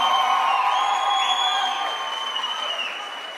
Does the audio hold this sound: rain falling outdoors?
no